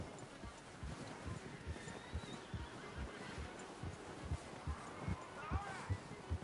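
Steady rhythmic hoofbeats of a horse in Red Dead Redemption 2 clip-clop under low talk, with a brief whinny-like cry near the end, somewhat distant and muffled.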